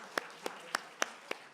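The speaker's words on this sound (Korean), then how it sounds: "다시 한번 격려의 박수 한번 주시면 좋을 것 같아요" A church congregation at a Korean service in Western Australia claps in slow unison, five sharp, evenly spaced claps, faint and somewhat distant.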